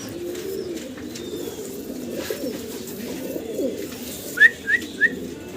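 Shallow pigeons coo at a pigeon farm, low soft rolling calls murmuring throughout, with a few short sharp chirps standing out near the end.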